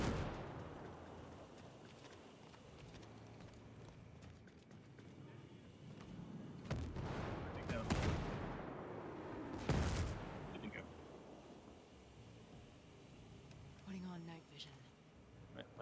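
In Ghost Recon Breakpoint, mortar rounds land in a couple of heavy, booming explosions with rumbling tails, over a low background of gunfire and ambience. A player talks throughout.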